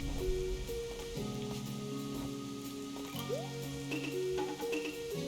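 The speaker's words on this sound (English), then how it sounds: "rainy Mafia Town theme. It's rainy, it's nice." Rain falls steadily over rainy Mafia Town in A Hat in Time, a soft patter beneath a gentle melodic game theme with sustained tones, no voices.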